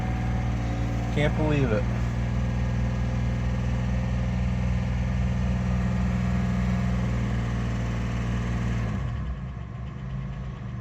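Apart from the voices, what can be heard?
Intimidator vehicle engine running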